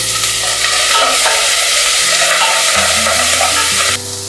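Asafoetida, red chillies, curry leaves and shallots fry in hot oil for mango sambar, a loud dense crackling sizzle that holds steady before easing slightly at the end.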